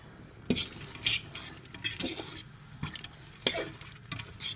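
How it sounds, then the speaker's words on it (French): A spoon stirs a sauce with fries in a pot for Algerian kbeb, giving a series of close scraping clinks against the metal over a soft sizzle, in an irregular rhythm with no talking. "Alors là, je vais mélanger un petit peu."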